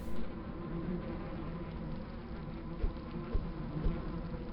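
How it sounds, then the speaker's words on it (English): Continuous bee-like swarm buzzing in a Quake video game map, steady and fairly close, with a few soft thumps near the end and no talk. "Something definitely sounds like bees."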